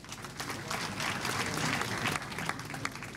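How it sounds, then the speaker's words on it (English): Steady applause from an audience, many hands clapping together at moderate distance for a few seconds. "So we'd like to please give her a round of applause."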